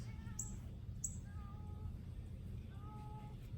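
A cat disturbed from sleeping in a shed gives three drawn-out, annoyed meows spaced across a few seconds, faint and somewhat distant over a steady low outdoor rumble.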